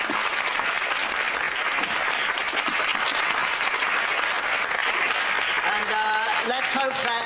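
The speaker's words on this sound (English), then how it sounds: "Round of applause for Dale." A gathered audience gives a round of applause for Dale in a school setting, continuous even clapping throughout, with a voice and musical tones entering near the end.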